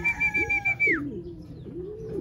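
At a loft where racing pigeons are arriving, a bright whistled tone falls away and is followed by low, soft cooing that rises and falls.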